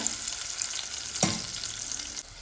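Dal and curry leaves frying in hot oil for a carrot fry, a steady close sizzle with a brief louder burst of crackle partway through, then a sudden drop in level near the end.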